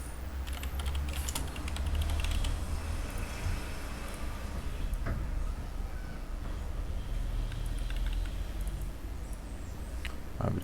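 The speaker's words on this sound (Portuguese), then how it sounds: "Vamos digitar aqui o título." Fast, steady keystrokes on a computer keyboard while a title is typed in, continuous close clicking over a noisy background hum, with no talking.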